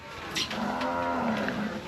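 A cow at a cattle and buffalo market in Wang Prachop, Tak, lets out one long, loud moo close by that runs nearly two seconds over a busy market murmur.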